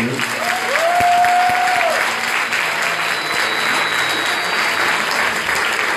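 A church congregation at a parish vigil gives its priest loud, sustained applause, steady and full throughout, with a brief voice rising over the clapping near the start.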